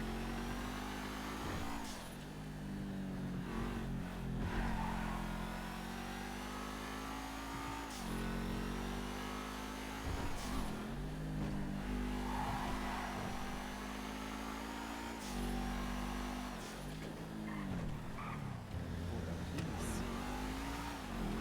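A car drives in GTA roleplay with a loud continuous engine drone, and its pitch rises and dips through repeated gear shifts and revs. It plays close and steady with no talking over it.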